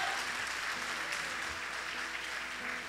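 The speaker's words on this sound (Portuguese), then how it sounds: "Você pode melhorar o seu aplauso?" Church congregation applauding in a continuous, dense wash of clapping, steady and moderately distant, with faint voices underneath.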